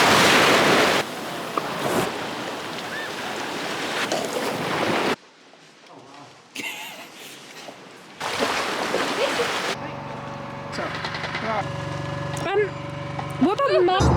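Ocean surf washes loudly against a beach on a hot day, broad rushing noise in bursts, broken by quieter stretches and a person talking over the later part.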